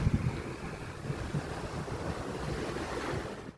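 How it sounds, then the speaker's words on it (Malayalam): Strong coastal wind at the Chinese fishing nets near Vypin, roaring steadily against the microphone with a low rumble and surf-like wash running for several seconds, then cutting off abruptly. "നല്ല കാറ്റുണ്ട് കേട്ടോ ഇപ്പം."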